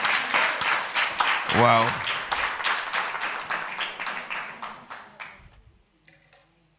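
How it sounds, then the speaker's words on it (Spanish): Church congregation applauds during a pastor's sermon, dense clapping filling the first five seconds before tapering off to near silence, with a man's brief exclamation rising over it partway through. "Dale un aplauso al Señor por eso."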